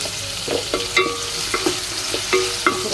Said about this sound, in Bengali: পেঁয়াজটা কিন্তু বেরেস্তা হয়ে আসছে।